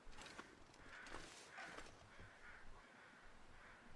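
Crows caw faintly and at a distance in the wilderness of the survival game The Long Dark, giving several rough, spaced calls over a low hiss of ambient noise.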